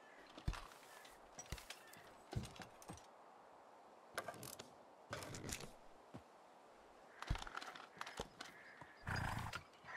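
A donkey in the video game Medieval Dynasty makes faint hoof clops and brays in scattered short bursts against a quiet background.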